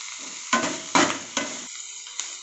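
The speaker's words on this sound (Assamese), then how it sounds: "আৰু অলপ ভাজোঁ, কিয়নো অলপ কৰকৰাব লাগিব" Red ant eggs sizzle steadily in a hot pan while a utensil stirs them in several distinct scraping strokes, close and clear with no talking.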